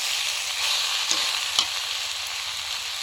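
Vegetables with slit green chillies sauté in a pan with a constant bright sizzle and a couple of soft knocks from stirring, close up with no voices.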